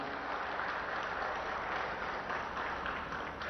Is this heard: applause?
yes